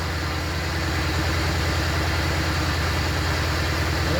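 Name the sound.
car engine idling, used to pump up a tire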